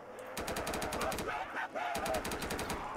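An AK rifle fires in the Roblox game, rapid automatic bursts of evenly spaced shots, close and loud, with a brief pause between two long strings of fire.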